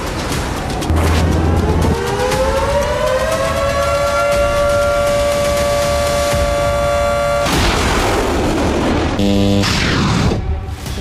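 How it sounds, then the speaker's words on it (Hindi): An air raid siren in Israel, sounding during a Houthi ballistic missile attack, rises and holds a loud, sustained wail for several seconds, followed by rumbling booms and a burst of sharp, choppy noise. "हूती के हाइपरसोनिक बैलिस्टिक मिसाइल हमलों से पूरे इजराइल में सायरन गूंजने लगे"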